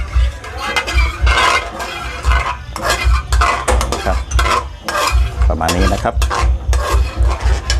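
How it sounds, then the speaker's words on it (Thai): Chili being stir-fried for a Thai eel curry with a little coconut milk and oyster sauce: steady scraping and clattering of a utensil against the pan over a continuous sizzle, loud and close, with bursts of stirring throughout. "เราจะคั่วพริกนะครับ"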